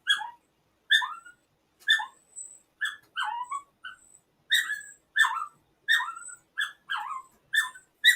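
A puppy giving a run of high, squeaky whimpers and yips in short repeated bursts about once a second, close and clear against an otherwise quiet room, with no talking.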